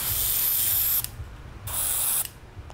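An airbrush sprays Green Stuff World color shift paint in two bright, steady hissing bursts of about a second each, close and fairly loud, with a faint low mechanical rumble between them.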